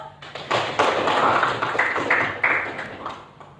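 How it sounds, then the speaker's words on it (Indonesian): A classroom of students claps in applause, a dense burst of clapping that swells quickly, holds for about three seconds and then thins out, with no talking. "Kita kasih aplaus."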